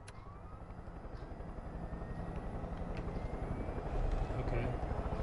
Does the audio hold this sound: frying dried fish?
no